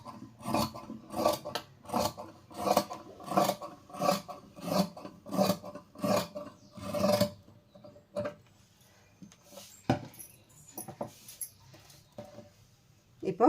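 Scissors snip through saree fabric to cut a sleeve piece for a churidar, a steady run of rhythmic rasping cuts for about seven seconds, then quieter scattered rustles and handling sounds.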